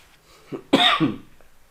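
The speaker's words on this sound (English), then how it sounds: "I just cannot control this coughing" A single close, harsh cough preceded by a short throat sound, loud and abrupt, then quiet.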